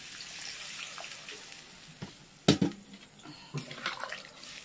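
Water poured into a fish curry with winter vegetables simmering in a pan, a brief splashing pour over a low bubbling background, followed by a few clinks and splashes, close by.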